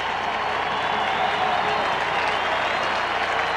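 A football stadium crowd at a 1999 WVU vs Pitt game applauds in a dense, steady wash of clapping and cheering that holds for a few seconds, broad and distant-sounding, with no single voice standing out.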